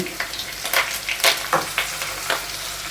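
Green chillies, curry leaves and onions fry in hot oil in a pan for a kaju paneer curry, giving a steady sizzle broken by repeated crackling spurts as they are stirred.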